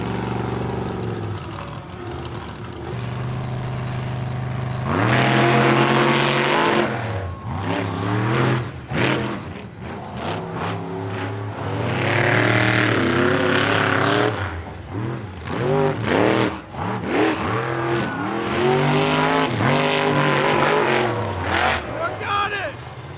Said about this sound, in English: We're gonna fire these trucks up.